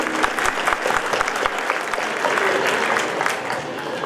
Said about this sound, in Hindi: एक बार प्रफुल्ल जी के लिए जोरदार तालियां